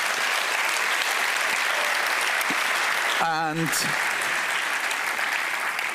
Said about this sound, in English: please one more applause for our sponsors and the cool challenges